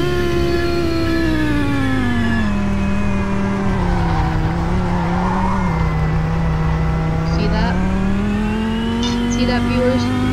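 An Audi R8 engine in a Roblox racing game drones loud and steady throughout, its pitch sagging and rising gently as it runs, with faint clicks near the end.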